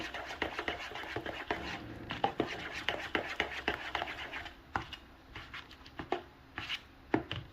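Spoon scraping and stirring through homemade pumpkin pie filling flavoured with vanilla in a bowl, a steady run of close scratchy strokes and soft taps with no talking.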